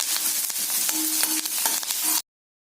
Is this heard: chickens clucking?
no